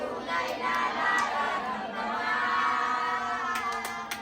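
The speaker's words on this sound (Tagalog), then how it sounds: "Malakas ang palakpakan, sigawan mo pa sa Barangay Balite!" A crowd at a political campaign event in Barangay Balite produces a continuous wash of cheering and chatter with scattered shouts, moderately loud and sustained throughout.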